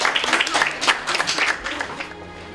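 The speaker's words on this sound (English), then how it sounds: "So give them a round of applause." A crowd at a school event applauds its student representatives, dense close clapping with some cheering mixed in, steady for a couple of seconds.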